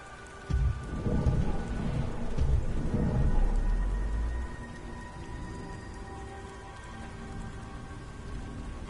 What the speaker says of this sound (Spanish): Dichosa lluvia. A ver cuándo escampa de una vez.